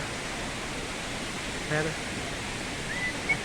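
Strong rushing water at the Cachoeira dos Macacos waterfall near Granja, Ceará, a steady dense roar filling the whole scene. A person speaks briefly over it.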